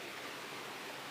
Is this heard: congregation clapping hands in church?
no